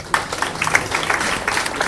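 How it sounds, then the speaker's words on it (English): A room full of people claps together, a dense patter of hands that starts abruptly and continues steadily at moderate volume. "Can we clap for ourselves?"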